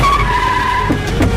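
A car skidding with tires squealing as it rams through a gate, a loud sustained screech with engine roar and a couple of short thuds near the end, up close.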